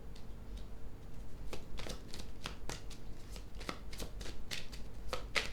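Tarot cards shuffled and drawn by hand, a steady run of soft papery riffles and sharp card flicks at close range, with no talk.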